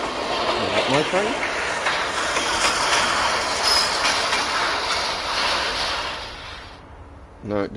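A train in the Dreams video game rumbles past with a loud, steady roar, clattering wheels and a squeal near the end as it fades out.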